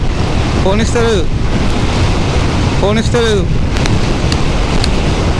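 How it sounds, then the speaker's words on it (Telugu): Strong gusting wind roars across the microphone of a 100cc motorbike on the open road under stormy skies, a loud continuous rush with a voice calling out over it twice. "బైక్ స్పీడ్ ఆగిపోయింది, అంత గాలి వస్తుంది"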